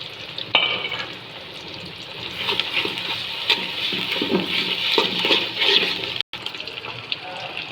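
Chopped onion sizzles and hisses in a hot pan, a steady close frying noise broken by occasional stirring clatters and one brief dropout near the end.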